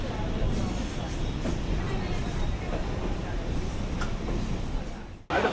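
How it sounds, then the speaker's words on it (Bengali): Crowded commuter train leaving Sealdah station at 7:42 heading toward Canning, a continuous dense rattling rumble of carriages with faint babble, ending in a brief drop and jolt. "ট্রেন ছাড়লো শিয়ালদা থেকে, একদম 7:42 ছেড়েছে"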